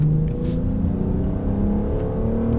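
A 1983 Volkswagen GTi engine fitted with a Remus exhaust drones steadily at a held rev, a close, fairly loud engine tone with no voices.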